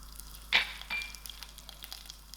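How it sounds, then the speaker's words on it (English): A curry leaf hits hot olive oil in a frying pan with one short, sharp sizzle, then a quieter crackle that fades. "Here I have a little bit of curry leaf, which I'm going to throw into the oil."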